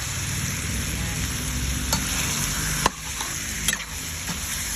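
Chicken for adobo sizzles steadily in a hot pan, a constant close frying hiss with a few sharp scrapes and clinks of stirring.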